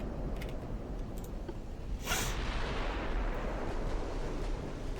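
A warship's main guns fire in the naval strategy game Ultimate Admiral Dreadnoughts, one sharp booming salvo rising out of a steady rumbling battle ambience, with no voices.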